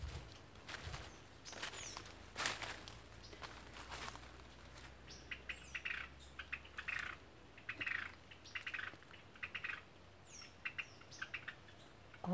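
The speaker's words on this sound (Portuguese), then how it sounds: "Olha o barulho dos pássaros." Wild birds calling in a Rondônia forest, a mix of chirps, tweets and squawks coming in scattered bursts over soft, distant ambience, with some wing flaps and rustling; moderately faint and with no talking.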